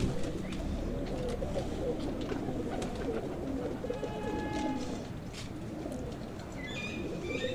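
Breeder pigeons coo softly in a loft, their low murmuring calls overlapping in a steady rumble, with a few brighter chirps toward the end and faint voices in the background.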